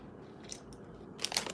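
Leftover Easter candy gets bitten and crunched close to the mic, with a few quiet crisp crackles followed by a louder burst of crunching near the end.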